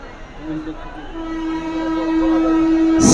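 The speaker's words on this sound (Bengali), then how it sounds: "সাবধানে থাকবেন, ট্রেন আসতেছে।" A train approaches sounding its horn, a steady sustained blast that swells louder over a few seconds amid outdoor crowd noise at an open-air religious gathering in Kurigram.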